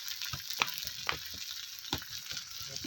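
Spices sizzle and fry in a pan as banana flower is cooked vegetarian Bengali style, with soft crackling and a few sharp scrapes of stirring, while distant shouts from a nearby football game carry faintly.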